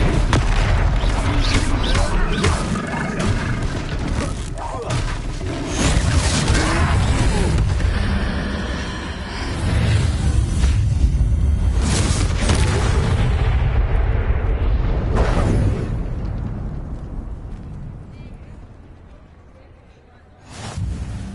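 Repeated Confringo fire-spell blasts during a troll battle in the Hogwarts Legacy video game, a dense run of loud booming explosions and crackling bursts that fades late on before a final swell.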